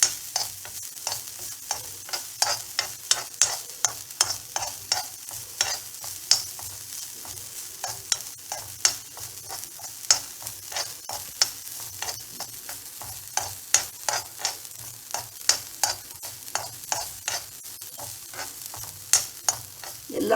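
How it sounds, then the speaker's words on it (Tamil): Coconut roasts in a pan for sesame thogayal, soft sizzling beneath a steady run of scraping stirs that repeat about twice a second throughout, with no talk. "நல்லா வறுத்துருங்க தேங்காயை."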